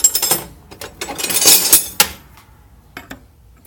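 Large metal wrenches from a Getrag five-speed transmission rebuild clink and clatter as they are picked through, a cluster of close metallic knocks and rattles followed by a few scattered faint taps.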